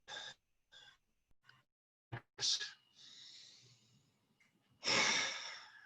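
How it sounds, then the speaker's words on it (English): A person draws in a deep breath during a laughter exercise. Short nasal breaths build to a long audible inhale and a strong breathy exhale, close and clear against silence. "Take a deep breath in."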